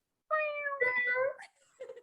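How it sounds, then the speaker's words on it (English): A cat gives a high, squeaky meow, one drawn-out call followed by a shorter second one, close and clear against a quiet room with no talking. "He's got the girliest squeaky meow too."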